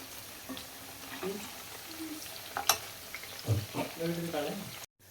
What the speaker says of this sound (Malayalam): നല്ല തിളച്ച് നല്ല ഗോൾഡൻ കളറിലായിട്ടുണ്ട്